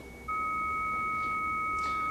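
A steady electronic modem answer tone switches on after a brief quiet moment and holds, joined by a second pure tone of the handshake, with faint hissy bursts layered over it.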